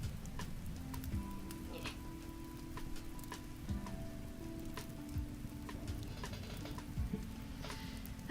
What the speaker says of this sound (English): A little bit of rain, maybe a storm.